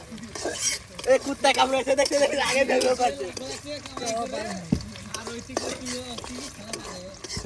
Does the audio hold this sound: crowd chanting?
no